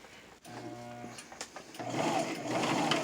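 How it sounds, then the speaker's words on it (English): A sewing machine stitches fabric for a face mask: a brief tonal hum, a few knocks, then a steadier buzzing run of stitching in the second half, close by with no talk. "now we're ready to sew"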